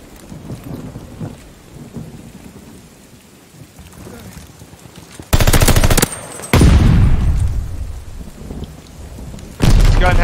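Automaton rifle fire in Call of Duty Vanguard erupts in loud, dense bursts after a quieter stretch, with a sustained volley, a brief gap, another long rattling burst and a final one at the end.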